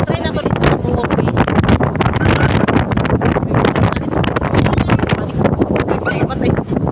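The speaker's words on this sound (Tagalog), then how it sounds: "Grabe, mahangin sobra." Strong wind buffets the microphone throughout while walking outdoors around MGM Taipa in Macau, a loud continuous roar with gusty rumbling and no clear speech.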